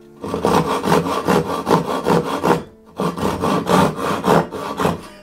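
A hand saw rip-cuts along the grain of wood clamped on a portable workbench, rhythmic back-and-forth strokes, loud and close, with one short pause midway.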